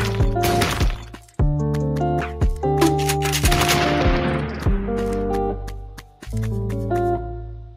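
Grenade launcher shots in the Build Royale.io browser game, loud booming bursts in quick succession, each with a ringing electronic tail and scattered sharp cracks between them.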